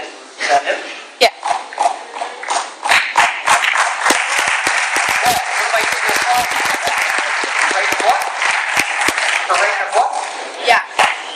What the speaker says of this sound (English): You started the applause